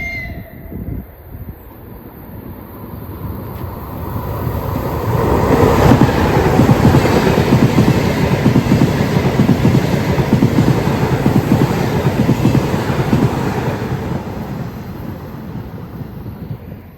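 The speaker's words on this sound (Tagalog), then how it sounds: "Merong train na paparating oh, sa kabilang side" A Lastochka passenger train pulls into a station in Russia, its rumble and rhythmic wheel clatter swelling from a distance to a loud, steady roar that then slowly fades.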